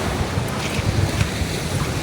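Sea waves washing in at Santa Fe beach on Bantayan Island under cloudy skies, a steady rushing surf with continuous wind buffeting the microphone throughout, fairly loud and close.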